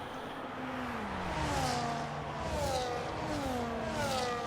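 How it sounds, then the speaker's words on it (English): Safety car engine in a sim racing game at Monza, a steady mid-distance drone with slowly shifting pitch as it runs alone without talk. "Safety car sounds alright."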